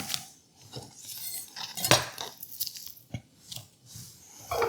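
A sharp kitchen knife cuts through an onion during meal prep, making a run of irregular crisp chops and crunchy slices against a cutting board, close and fairly loud, with brief quiet gaps between strokes.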